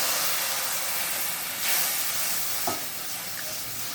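Water poured into hot spices in a pan while making besan sev kadhi, giving a steady broad sizzling hiss with a brief louder burst of steam partway through, close and continuous with no talking.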